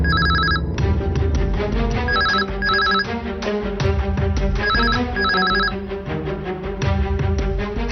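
An old-style telephone bell rings repeatedly in short double bursts over a steady background, with no talk.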